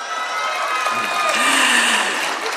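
Audience at a kavi sammelan (poetry recital) in Raipur breaks into sustained applause mixed with cheering and whoops, a dense, steady crowd roar filling the hall throughout.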